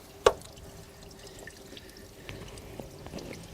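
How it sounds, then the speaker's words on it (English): Coolant from a Ford Edge 3.5 Duratec engine drips and splashes into a drain pan below during a thermostat replacement, faint scattered drips after one sharp splash near the start, with quiet workshop background. "Now just keep in mind we're going to spill some fluid. And I got my pan down below."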